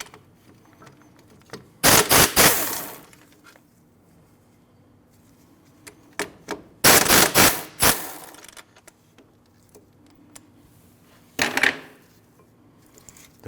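A wrench works loose the 19mm caliper bracket bolts on a 2012-2016 Honda CR-V during front brake replacement, sharp metallic ratcheting bursts in three separate clusters with scattered clicks and clinks between them.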